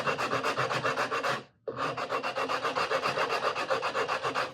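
Rasping hand tool smoothing the wooden neck of a steel string guitar, close and loud, in a quick regular back-and-forth rhythm with one brief pause partway through.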